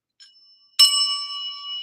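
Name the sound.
desk bell ringing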